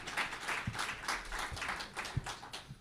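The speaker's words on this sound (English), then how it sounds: "a big applause for Jeffrey" Audience applause for a speaker at a tribunal event in New York, a moderate crowd clapping in uneven waves with a few louder individual claps, fairly near and fading slightly toward the end.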